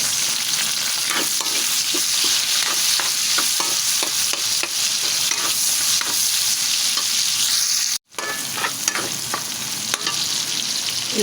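Vegetables for pinakbet sizzle steadily in a hot pan while being stirred, with frequent scraping clicks of the spoon; the frying runs loud and continuous, with a brief drop near the end.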